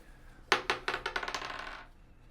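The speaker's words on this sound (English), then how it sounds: "So roll" Dice rolled in a dice game clatter onto a hard surface, a sharp first impact followed by a quickening series of bouncing clicks that fade out.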